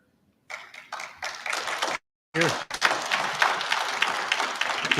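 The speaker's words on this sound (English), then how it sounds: "You're getting a nice round of applause." An audience at a conference lunch keynote begins clapping in scattered bursts, breaks off briefly, then swells into dense, sustained applause.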